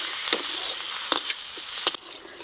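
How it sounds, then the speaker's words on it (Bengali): A paste of ginger, garlic, dried red chilli and cumin with turmeric and salt fries in a pan, giving a steady high sizzle with three sharper stirring scrapes spread across it and no talk. "এখন মশলাটাকে ভালো করে কষিয়ে নেব।"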